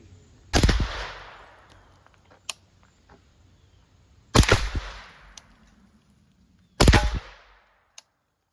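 Three sharp gunshots from a Tacticon Armament gun fired at a target, spaced several seconds apart, each a loud crack with a short decaying tail, plus a few fainter clicks and taps between shots.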